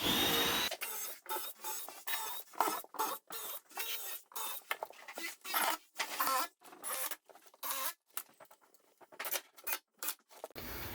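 A drill works into wood in short bursts, pre-drilling screw holes for a floating bench, with a bright whine starting and stopping in an irregular rhythm close to the microphone.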